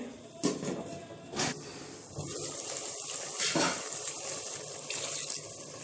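Water splashes and trickles into a cooking pot of chicken tahari in short bursts, with faint metallic clinks of the pot, close by and fairly quiet.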